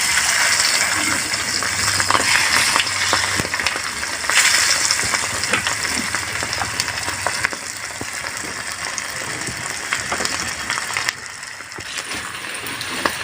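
Salted sepat fish frying in a pan indoors during heavy rain, a loud continuous sizzle and crackle with occasional stirring and scraping clinks, no talk.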